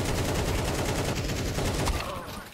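Rapid automatic gunfire in Counter-Strike 2 during a match, loud continuous bursts that fade toward the end, no talk over them.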